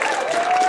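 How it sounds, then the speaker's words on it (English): A convention audience at a live DragonCon panel show claps briefly for a guest being introduced, a dense, continuous patter of many hands in a large room, with a faint tonal hum running underneath. "someone clap for Jon, please"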